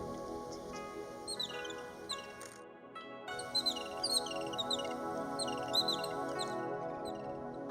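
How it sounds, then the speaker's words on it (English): Small birds chirp and twitter in a dense forest, quick bright calls repeating in bursts over a quiet background, fairly faint and close. "Do you like to be woken up by the sound of the birds?"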